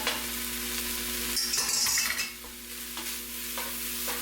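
Browned turkey meat is stirred in a chili pot, a soft sizzle under scraping spoon strokes with a brief clinking, rattling burst in the middle and quieter stirring after.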